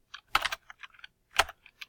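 Typing on a computer keyboard while entering a spreadsheet formula: a quick cluster of close, crisp key clicks with two louder strikes and scattered lighter taps.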